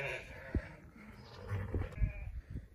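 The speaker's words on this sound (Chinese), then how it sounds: "这边大羊加小羊加在一块，足足有200-300头。" Sheep and lambs bleating in a large pen of a few hundred animals on the Qinghai-Tibet plateau, several close, overlapping calls over a constant farmyard murmur.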